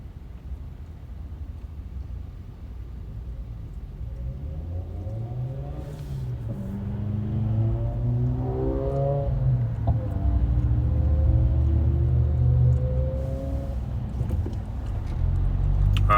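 Morning road traffic heard from inside a moving car, a steady engine and tyre rumble with other vehicles sweeping past at moderate distance, swelling and fading over the continuous drone, with no talking.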